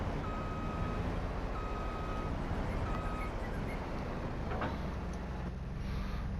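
A farm vehicle backs a trailer into place in a farming game, sounding repeated high reversing beeps in evenly spaced pulses over a constant low engine drone.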